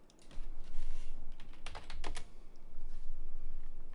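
Someone types on a nearby computer keyboard in a quick run of key clicks, with a few sharper taps in the middle. The clicks are steady and moderately loud and nobody talks.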